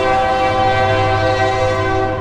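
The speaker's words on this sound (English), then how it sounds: "My bad, that train like dumb loud." A freight train passes close by, its horn blaring loud and steady with sustained tonal blasts over a heavy rumble of rail cars, running the whole time without any voices.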